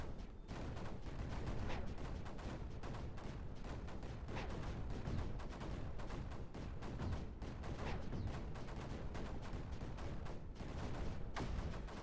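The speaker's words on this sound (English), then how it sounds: "I say I want to use cannons and I build mortars." Cannon and mortar fire in the video game Creeper World 4, a continuous stream of rapid, quiet popping and thudding shots that runs steadily throughout with no speech.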